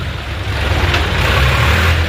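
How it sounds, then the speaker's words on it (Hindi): A tractor revs and rumbles nearby as it is spun around on one wheel during a 15 August village flag-hoisting rally, its engine droning steadily loud and low throughout. "देखिए धका धक एकदम पूरा ट्रैक्टर नच रहा है"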